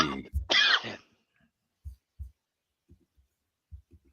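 A couple of quick, rough coughs burst out near the start, followed by faint scattered thumps and quiet stillness.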